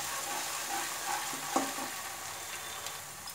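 Soy sauce, red chilli sauce, tomato sauce and green chilli sauce stirred together in a frying pan over a low gas flame, with a steady soft sizzle and a few faint spoon scrapes, no voices.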